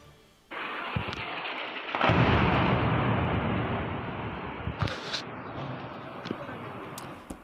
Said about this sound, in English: Those the sounds of explosions during those strikes.